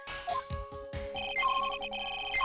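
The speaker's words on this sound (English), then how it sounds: "That's the sound of the metal detector signal bouncing off of something metallic." A metal detector in the Phoenix Wright video game emits electronic signal beeps, rapid short tones repeating in a steady pattern over a faint game background.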